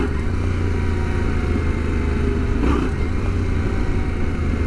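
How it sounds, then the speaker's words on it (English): A motorcycle engine runs loud and close, with a quick burst of throttle that briefly lifts the revs before dropping back to a steady rumble, while practising for a wheelie. "So part 2 of the exercise is to blip the throttle. So you're going to give it a quick burst of power and then right off again."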